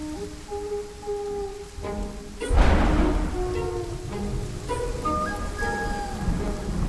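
Rain falls steadily in an outdoor setting, forming a continuous soft hiss with a sudden heavier burst partway through, under background music with sustained tones.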